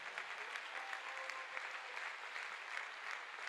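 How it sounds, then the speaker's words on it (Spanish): A church congregation claps together during a sermon at a convention, a dense, even wash of applause that holds steady throughout. "Dele un aplauso al Señor en esta hora."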